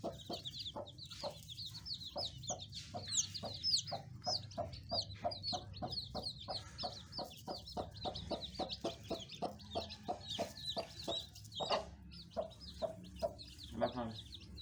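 A broody hen sitting on a clutch of eggs clucks steadily, giving close, regular low clucks throughout with occasional higher squawks.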